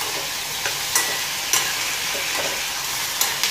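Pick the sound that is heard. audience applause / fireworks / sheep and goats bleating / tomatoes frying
tomatoes frying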